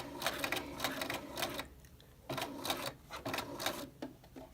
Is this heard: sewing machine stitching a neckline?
yes